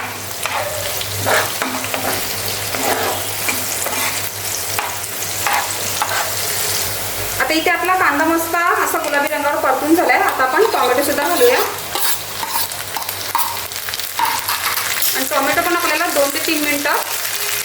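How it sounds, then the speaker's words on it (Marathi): Chopped onion fries in a pan for egg kheema, a constant sizzle broken by repeated scraping stirs of a spatula against the pan, close and fairly loud. "आता आपल्याला आपला कांदा घालायचा आहे आणि कांदा आपल्याला अगदी गुलाबी रंगावरती छान परतून घ्यायचा आहे"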